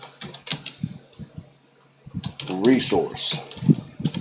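Quick bursts of computer keyboard typing patter in short clusters of clicks, close up, with someone talking over part of it.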